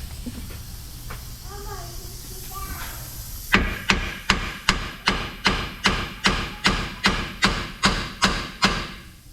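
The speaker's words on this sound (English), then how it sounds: "You can tap on the side to try to free the rust up" A hammer taps the side of a ball joint press to free rust on a 3rd-gen RAM 2500 with a 5.9L Cummins during a long-arm lift kit install: about fourteen loud, evenly spaced metallic strikes after a quieter stretch of shop noise.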